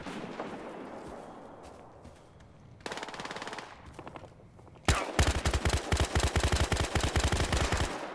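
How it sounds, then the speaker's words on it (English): Gunfire in a Battlefield Hardline multiplayer match, starting as distant muffled shots, then a burst of rapid fire, then loud sustained close automatic fire with a fast, even rhythm. "These guys are already sniping. They're shooting at each other."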